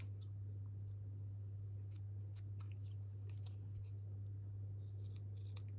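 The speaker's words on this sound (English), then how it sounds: "I'm just going to trim that excess off." Scissors snip away the excess around a gold-leafed paper label, a few quiet, sharp cuts spread over a steady low electrical hum, with no talking.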